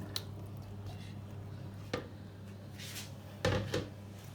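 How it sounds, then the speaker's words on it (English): Meat poured from a container into a cooking pot for Atama soup, soft wet squishing and a few thuds against the pot, with a low steady hum in the kitchen background. "Just pour the meat into the pots."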